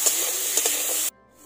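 Cut potatoes sizzle in hot oil in a kadai, a dense close hiss with a few small pops that cuts off abruptly near the end.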